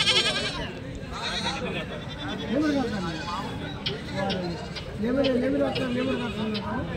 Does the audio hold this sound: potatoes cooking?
no